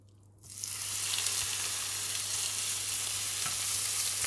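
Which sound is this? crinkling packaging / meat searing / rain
meat searing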